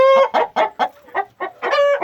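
An Indian Aseel rooster gives a series of short, loud, close clucks in an uneven rhythm, with a brief crow-like tonal call at the start and end.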